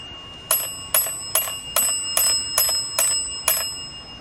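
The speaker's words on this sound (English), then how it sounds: "They like ringing that bell." A small bell rings eight times in a steady, even rhythm at the Marais des Cygnes Massacre site, each bright ding decaying briefly before the next strike.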